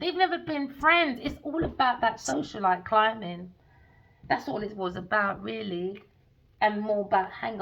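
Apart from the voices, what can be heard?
No everyday noises stand out.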